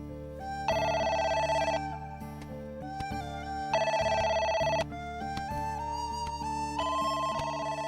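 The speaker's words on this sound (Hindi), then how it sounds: "बुआ, फोन बज रहा है, आपको सुनाई नहीं दे रहा?" A telephone ringtone rings loudly and alone in a Hindi-language household drama, a bright melodic tune repeating in bursts for several seconds.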